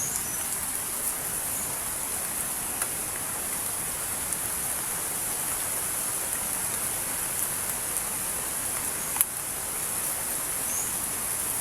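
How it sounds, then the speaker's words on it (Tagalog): Heavy rain pours steadily beside a bamboo grove, a dense, even hiss of falling water heard from under shelter, with an occasional sharp drop tap standing out. "hintay tayo sa paghina ng ulan"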